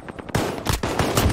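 Gunfire in the Warzone Pacific shooter game, loud sustained bursts after a brief quieter opening, several dense volleys close up with no talk over them.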